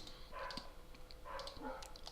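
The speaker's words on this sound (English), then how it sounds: "I'm sorry if you can hear that dog in the background" A neighbour's dog barks in the background during a Minecraft building session, two loose bursts of muffled yapping at moderate distance, with no talk over them.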